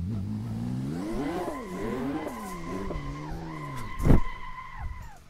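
A Porsche GT2 RS MR spins through a 180 on a Portuguese track. The engine revs rise and fall in wavering tones, and a sharp, loud burst of tire squeal and skidding hits near the end. No voices are heard.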